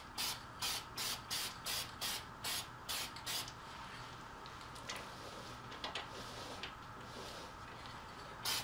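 Rattle-can spray paint laying a light first coat on wheel rims: a run of short, even hissing bursts at a steady rhythm, then a softer, longer stretch of spray with a few scattered pulses, close and with no talking.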